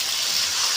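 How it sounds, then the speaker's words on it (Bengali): Water poured into a cooking pan of spiced potatoes for a Bengali chal kumro and fish curry, a brief, steady rushing splash heard up close with no talk. "দিয়ে দেবো জল,"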